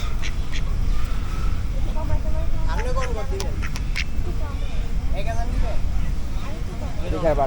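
Ducks quack repeatedly at a busy riverside fish and poultry market, the calls coming in scattered bursts close by over a constant crowd murmur and voices.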